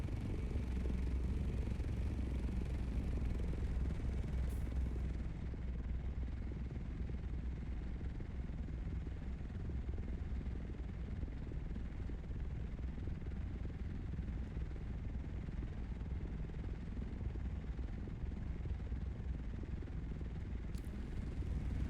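An ornithopter in Dune Awakening flies along with a steady, dense whirring engine drone that stays close and continuous throughout.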